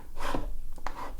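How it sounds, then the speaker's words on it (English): A folded paper card being creased by hand: a short, close rub and swipe, then a second quick scraping pass over the fold, with no speech. "Crease that in."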